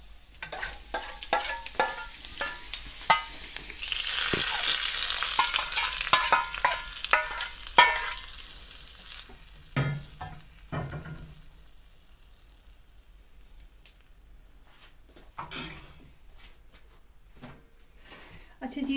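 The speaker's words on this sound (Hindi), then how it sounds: "इसको थोड़ा सा भूनेंगे इसमें और उसके बाद फिर सालन के ऊपर इसको शामिल कर देंगे।" Curry leaves frying in hot oil for achari chicken, a loud sizzle that swells midway and then fades to quieter crackles and stirring, with some voice in the background.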